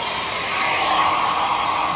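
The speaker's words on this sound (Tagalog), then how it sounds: "Blower is live." A hair dryer blows steadily and loudly at close range, a constant whooshing hiss with a high whine, running alone without any talking.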